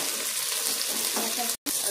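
Green chillies frying in a pan for egg biryani give a steady, close sizzle throughout, with a brief dropout near the end.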